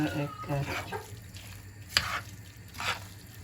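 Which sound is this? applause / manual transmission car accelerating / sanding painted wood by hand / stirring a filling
stirring a filling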